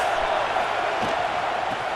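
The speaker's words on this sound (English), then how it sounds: "This crowd trying to make life miserable for this offense." Stadium crowd noise from the College Football 26 video game, a dense, steady roar of many fans filling the whole span without letting up, with faint commentary beneath.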